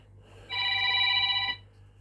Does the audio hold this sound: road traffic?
no